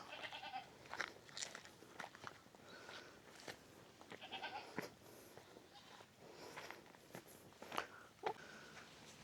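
Goats on a hillside path at the Gooty fort give scattered bleats over a steady outdoor background, with occasional crunching steps and light movement noise.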